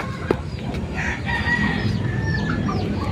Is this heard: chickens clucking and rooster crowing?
yes